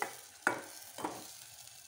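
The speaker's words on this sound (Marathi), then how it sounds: "मसाले चांगले फ्राय करून घेऊ।" Spice masala for dry mutton fries in a pan, a quiet sizzle with three brief scraping stirs spaced about half a second apart.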